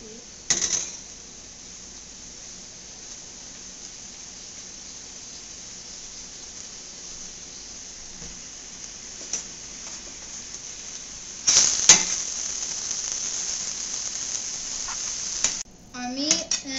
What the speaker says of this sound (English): Keep stirring the meat and onions